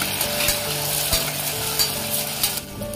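Onion, tomato and green chilli sizzle in a pan with a constant hiss, broken by a few light clicks of stirring before it fades near the end.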